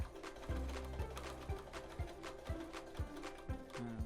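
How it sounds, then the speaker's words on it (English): A home sewing machine stitches a fabric oven mitt, running in quiet steady bursts with a rhythmic needle clatter and short pauses as the work is pivoted. No one speaks. "I like to lift up my foot as I turn just to get a nice curve while I sew."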